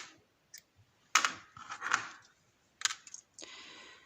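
Scissors snip crochet yarn up close in a few short, sharp clicks and crisp cuts, separated by quiet pauses, with a softer rustle at the end.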